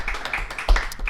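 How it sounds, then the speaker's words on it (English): Brief burst of hand clapping applauding the Milwaukee Bucks, a few close, fairly loud claps with one stronger hit near the middle, no voices. "let me give a quick round of applause for the Milwaukee Bucks"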